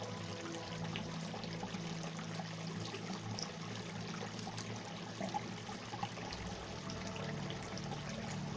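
Waterfall on Hardscrabble Creek in Colorado, a steady broadband rush of falling and splashing water that stays even and continuous throughout, close and fairly loud with no voices.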